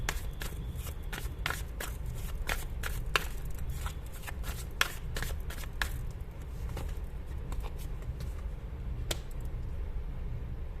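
Tarot cards are handled and shuffled with a steady stream of crisp slaps and riffles, close and fairly quiet, running continuously over a low background hum.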